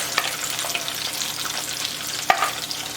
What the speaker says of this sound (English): The paste that we have blended, I'm gonna add this. I'm gonna saute this a little bit.